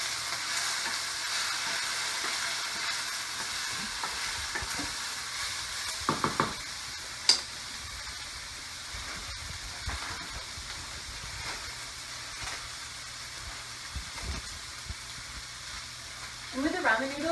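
Ramen noodles and peanuts stir-fried in a pan give a steady broadband sizzle throughout, with occasional scraping and clattering stir strokes and a brief louder knock near the middle; no one speaks.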